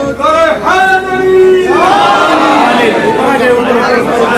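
An audience at a religious celebration gathering loudly chants salawat in unison, rising tonal voices swelling together and holding drawn-out notes, close and strong for several seconds.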